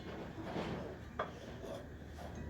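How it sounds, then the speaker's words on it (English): Old RTV sealant is scraped off a power steering part from an 84 Belarus 400A tractor, a soft gritty rasping with one sharper scrape midway, quiet and close. "I'm scraping a lot of this bigger stuff off because it just takes a little bit longer with the drill"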